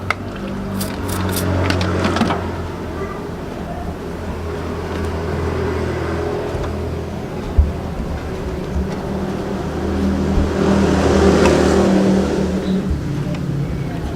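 A car engine idles with a steady low rumble and rises in a sustained rev toward the end as the throttle is pushed during a radiator water change, with a brief knock partway through.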